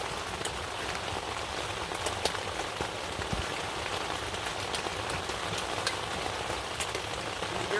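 Steady rain drums on a hot tent during snowy winter camping, a dense continuous patter with scattered sharper drops, even and unbroken throughout with no voices.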